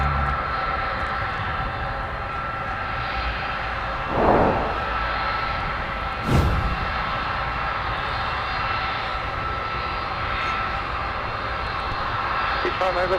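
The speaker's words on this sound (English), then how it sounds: "Always a wonderful sight to see the A300." An Airbus A300 at Minneapolis–St. Paul airport produces a sustained, broad jet-engine roar, with a couple of brief louder swells, while voices can be heard faintly underneath.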